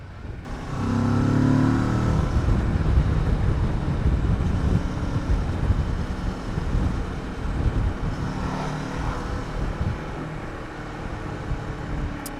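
A Kawasaki Versys 650 motorcycle, candy lime green, is ridden at steady speed, with its engine drone rising briefly at the start and running continuously under heavy wind buffeting for the whole stretch.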